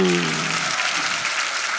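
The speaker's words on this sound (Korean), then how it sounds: "하나님께 영광의 박수." A church congregation breaks into applause right after a preacher's voice, the clapping rising quickly into a full, even wash of many hands that carries on steadily.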